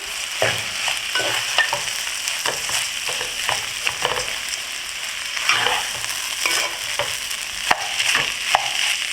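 Jasmine rice toasts in a pot on a gas stove, stirred with steady scraping and shuffling strokes over a light sizzle, close and even.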